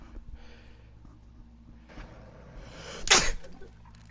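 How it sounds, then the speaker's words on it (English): A single sharp sneeze bursts out near the end, loud and close after a few seconds of quiet background noise. "I got a sneeze coming on"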